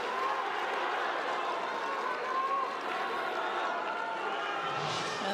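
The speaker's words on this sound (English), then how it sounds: "And the crowd goes wild." Crowd noise swells at a Beijing 2022 wheelchair curling gold medal match between China and Sweden, a steady, dense roar of cheering and applause held throughout, loud and continuous with no single voice standing out.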